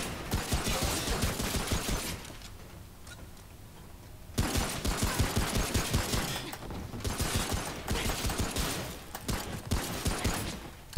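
Rapid bursts of gunfire in Remnant: From the Ashes co-op play, dense rattling volleys repeating across most of the stretch with a brief lull in the middle, loud and close.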